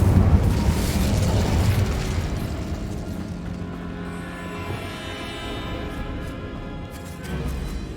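The Incendio fire spell cast in Hogwarts Legacy, a loud burst of fiery roar at the start that gradually subsides into a softer rumbling crackle over several seconds.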